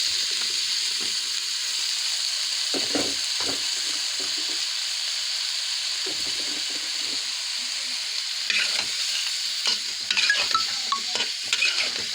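Brinjal frying with a spice paste in a pan: a steady, bright sizzle runs throughout, with occasional clatter from stirring toward the end and no voices.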